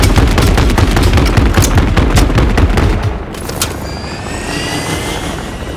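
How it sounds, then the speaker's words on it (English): An attack helicopter in the shooter Call of Duty MW3, with loud rapid rotor chop and gunfire-like bursts pounding for about three seconds before easing into a lower, steadier engine drone. "Attack helos on me!"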